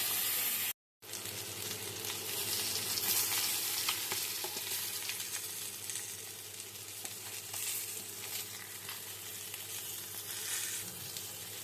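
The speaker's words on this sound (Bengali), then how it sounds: "মাছগুলোকে এরকম লাল লাল করে ভেজে নেবে" Ar fish pieces rubbed with salt, turmeric and oil frying in hot oil, a dense continuous sizzle and crackle heard close and fairly loud, broken by one brief dropout near the start, no talking.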